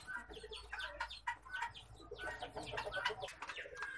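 Brahma chickens cluck and chirp steadily in a backyard coop, several birds calling over one another at close range with a busy, overlapping rhythm.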